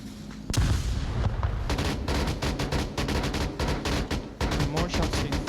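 Rapid bursts of gunfire fill the VR shooter Onward during a competitive Bushin versus RONIN match, shots cracking loud and close in quick irregular volleys with a commentator talking over them.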